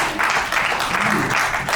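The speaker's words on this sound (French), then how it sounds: "Est-ce qu'on peut applaudir d'abord son excellence?" A crowd at an agricultural colloquium in Kinshasa applauds steadily and loudly, the clapping dense and continuous throughout.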